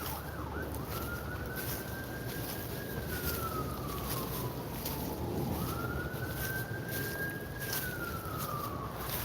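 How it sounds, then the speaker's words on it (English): An ambulance siren wails past a wooded trail in two long rising and falling sweeps, moderately distant and steady against quiet outdoor ambience. "so that's more likely an ambulance."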